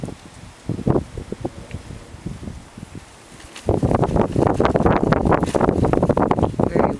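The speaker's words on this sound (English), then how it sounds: "Very windy today." Strong wind buffets the microphone in rough, roaring gusts, growing louder and more constant after a few seconds of lighter rustling.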